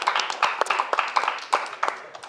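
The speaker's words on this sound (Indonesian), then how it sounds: "tepuk tangan" Audience at an Indonesian comedy roast claps and applauds, a loud, dense patter of many hands in irregular bursts that continues throughout.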